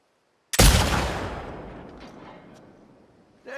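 A single loud gunshot blast in The Last of Us Part II cracks sharply and then rolls off in a long echoing decay, with the start of another shot arriving right at the end.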